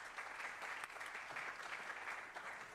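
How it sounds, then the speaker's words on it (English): Applause for a panel at the close of a mining regions project session, a steady wash of many hands clapping at low level throughout, fairly distant and even. "let's give a round of applause to the panel"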